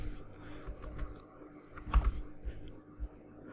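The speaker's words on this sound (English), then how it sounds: "I'm gonna type my name again." Close, quiet typing on a computer keyboard while setting up a Kali Linux 2020.1 user account, an irregular run of soft key clicks with a few firmer taps, no voices.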